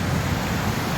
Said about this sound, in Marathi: दरवाज्यातून पाण्याचा विसर्ग होत आहे